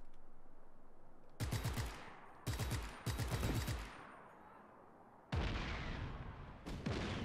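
Video game explosions and gunfire in Just Cause 3, loud bursts of rapid automatic fire in several sharp volleys, followed by a heavy booming blast that rolls on with crackling fire.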